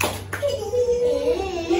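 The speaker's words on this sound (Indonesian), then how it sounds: "Tepuk 1" A class of children gives one sharp group clap in unison, brief and close, followed by soft children's voices murmuring.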